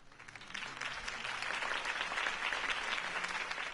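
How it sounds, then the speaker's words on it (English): Crowd applauding after a campaign speech in the Batman Telltale video game, a sustained dense wash of clapping that swells and holds steady for several seconds. "could have heard that applause"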